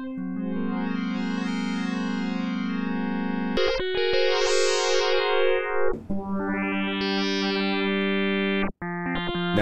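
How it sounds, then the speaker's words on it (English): A bright synthesized sine-wave tone with harsh, buzzy wave-shaper distortion whose harmonics swell and shift in steps, sustained and loud with no voices. "Because you hear the change of a Wave Shaper far more with a sine wave"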